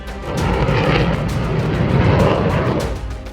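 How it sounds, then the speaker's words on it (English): U.S. F-16 fighter jets arriving at Clark Air Base in the Clark Freeport Zone produce a loud, continuous, rumbling roar that swells in and holds for several seconds, overwhelming everything else. "the unmistakable roar of jet engines surged through the air"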